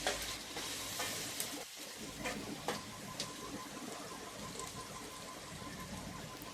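Continuous sizzling of chopped onions sautéing in a pan with occasional stirring clicks and scrapes, close up and fairly even, with no talking.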